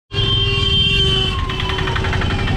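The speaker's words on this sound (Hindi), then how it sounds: "अरे एम्बुलेंस को साइड देना पड़ेगा बॉस" An ambulance siren wails loudly and steadily on a road in India, starting abruptly and holding its tone close by, then shifting to a faster warbling pattern partway through, with traffic rumble underneath.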